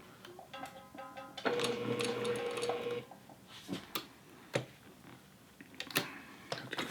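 A sewing machine hemming jeans with gold thread runs in a brief burst of rapid stitching, followed by scattered clicks and knocks of handling the fabric and foot, fairly faint and close.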